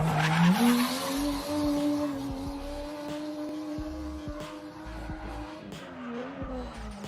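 A Nissan S14 drift car slides with a long, loud tire squeal that wavers in pitch over the engine's steady drone, continuous and close.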